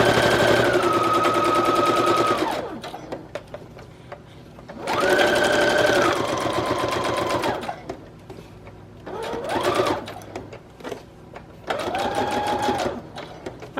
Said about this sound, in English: I'm gonna sew all the way around the front then.